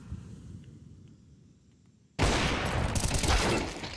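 Counter-Strike gunfire at an IEM Chengdu esports match bursts in abruptly as a loud, dense volley after a quiet stretch of low hum, and continues to the end.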